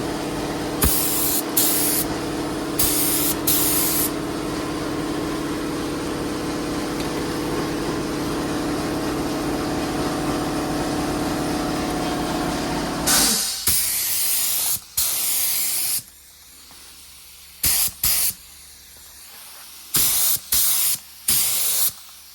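A spray gun lays a first coat of finish onto the leather upholstery of a BMW E38 728i. It gives a loud, steady hiss for about thirteen seconds, then several short separate bursts with quiet gaps between them.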